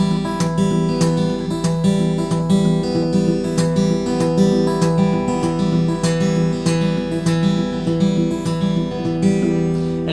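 Acoustic guitar played in a steady Travis picking pattern with palm muting, alternating bass notes under plucked treble strings in a continuous, even rhythm, close and moderately loud with no talking.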